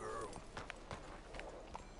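Horse hooves clip-clopping at a walk, several uneven knocks over a couple of seconds, fairly faint and close, with a little background noise.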